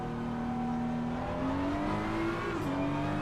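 A Ferrari race car engine in Assetto Corsa Competizione, a steady whining drone with a pitch rising gradually through a gear, brief dip, then holding on, with no voices.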